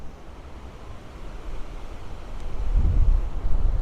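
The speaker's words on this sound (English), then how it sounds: "show you just how windy it actually is down here in Stanley Park" Strong wind at a car show in Stanley Park, Blackpool, buffets the microphone in a steady low roar, swelling into heavier gusts toward the end; no voices.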